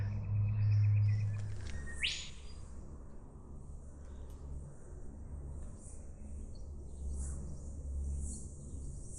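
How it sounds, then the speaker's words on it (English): Birds chirp and trill repeatedly at a moderate distance along a forest track on Mt Nebo, over a soft outdoor hum, with a low rumble early on; no voices. "Just sitting here listening to the birds, it's really pleasant."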